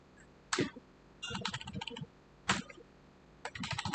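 Computer keyboard typing in bursts of quick clicks, two short separate strokes followed by rapid clattering runs, close and fairly quiet with no talking.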